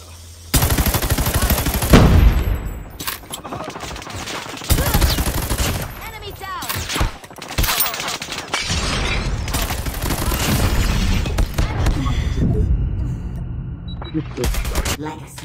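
Bursts of automatic and single gunfire crackle through a first-person shooter match in Call of Duty ranked multiplayer, loud and close, coming in rapid volleys with short gaps while players talk over the shooting.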